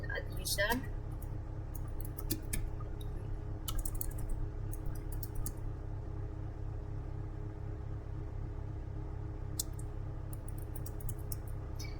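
Someone types a user command on a computer keyboard, with short bursts of light key clicks separated by quiet gaps. The tapping sits over a steady low hum.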